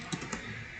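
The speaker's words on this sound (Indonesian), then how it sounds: "Lalu kita ketikkan git config" A few quick keystrokes on a computer keyboard while typing a git config command, soft close clicks in a brief burst.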